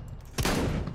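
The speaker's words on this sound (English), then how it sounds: "Oh, I'm getting shot at." Gunfire bursts out in CS:GO during Strat Roulette, one sharp close blast followed by a dense rattle of overlapping shots lasting about half a second.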